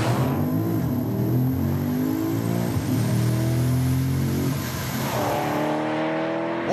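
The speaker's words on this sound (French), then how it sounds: "un petit départ arrêté, alors on passe en mode Sport Plus pour avoir toute la puissance et on n'a plus qu'à lâcher la cavalerie" Porsche Panamera GTS launching from a standstill in Sport Plus mode, loud engine note climbing steadily through several gear changes and holding strong close to the car for nearly seven seconds.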